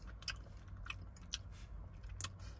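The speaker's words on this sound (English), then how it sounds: "Now, let me just have the mochi." Mochi ice cream with a thin rice-dough shell is chewed close up, soft sticky squishes and moist bites repeating in an uneven rhythm over a quiet room.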